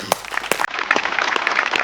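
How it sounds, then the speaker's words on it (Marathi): Audience applause greeting a celebrity guest on a Marathi comedy stage show, a dense burst of clapping that starts with a few sharp claps and then settles into steady, fairly loud applause. "जोरदार टाळ्या"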